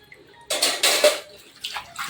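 Water running into metal pots as vessels are filled at home, a splashing gush in two bursts with a short pause between, close by and fairly quiet.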